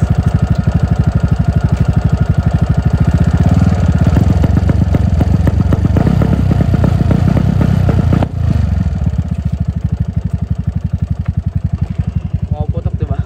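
A Honda Dio scooter fitted with a new exhaust pipe runs loudly nearby in a rough, pulsing idle. It revs up around the middle, dips sharply, and then settles back to a throbbing idle.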